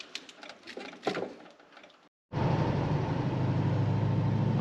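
An LS-swapped car with newly installed Dakota Digital cruise control is driven. Faint clicks and rustling come first, then a brief silence, then a loud, steady engine and road roar that holds to the end.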